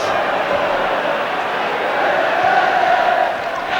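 A packed all-ticket crowd of around 60,000 at Old Trafford for a Manchester United v Everton League Cup night match, a loud, continuous roar of massed voices.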